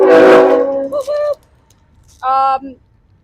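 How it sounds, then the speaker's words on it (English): Near the start someone talks briefly. Then a passing train blasts two loud, harmonic horn sounds, one short and one longer, close by, with quiet outdoor background between them. "The train made me lose my thought pattern"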